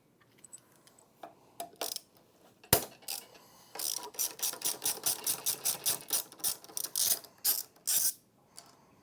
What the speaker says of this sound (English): Remove the two bolts here and here.